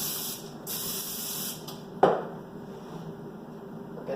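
Two bursts of cooking spray hiss up close onto a waffle iron, followed by a sharp clack and a soft lingering hiss.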